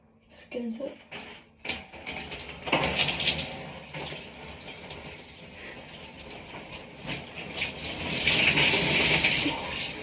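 Water from a jug gushes and splashes over someone's head, a loud pouring burst that builds toward the end, mixed with people talking and reacting around it.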